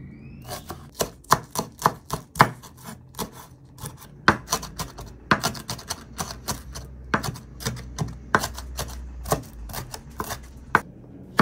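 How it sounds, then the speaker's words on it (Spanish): A knife chops green onion rapidly and unevenly against a cutting board, dozens of crisp close taps in quick bursts. "Una cebollita cambray finamente picada con todo y la parte verde"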